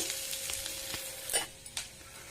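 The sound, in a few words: stirring cashews and curry leaves in a pan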